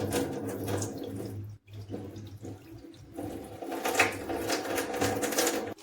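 Water pouring and splashing out of a pot at a sink while preparing tikhur (white turmeric) jelly barfi, a steady close running wash with a short pause midway and a louder surge near the end.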